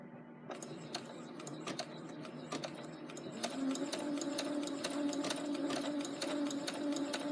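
A sewing machine fitted with a blind hem foot stitches steadily through fabric, its needle mechanism whirring in a continuous, even rhythm that picks up slightly in speed and loudness partway through, heard close up without talk.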